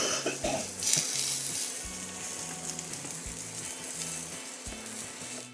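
Peppers, onions and mushrooms sizzle in hot oil in a preheated pan, a steady close frying hiss with brief crackles and a few soft stirring scrapes. No one speaks.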